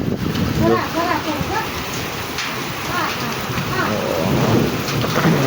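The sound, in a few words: thunder during a rainstorm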